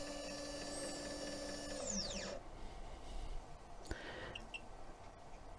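A Sainsmart 4040 Pro CNC router spins while cutting a tenon, a steady high-pitched whine that winds down and stops partway through, followed by quieter mechanical clicks and a brief whirring burst.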